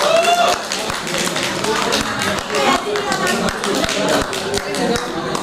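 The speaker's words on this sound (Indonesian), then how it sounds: "Tepuk tangan buat Klasi FM Padang" Audience clapping for Klasi FM Padang at a radio summit event, a sustained dense round of applause from a crowd indoors, steady and loud throughout with no break.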